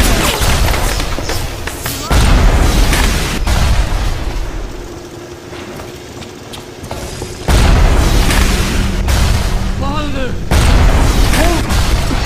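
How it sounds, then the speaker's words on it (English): Rocket turret explosions in the video game BioShock, repeated loud booming blasts with rumbling low-end thuds spread across the stretch, mixed with game sounds and a voice talking over them. "Yes, rocket turret."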